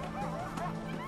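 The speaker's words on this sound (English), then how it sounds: "Dogs." Dogs barking in Far Cry 4 gameplay, a rapid run of yips and barks held steadily through the short stretch over constant game ambience.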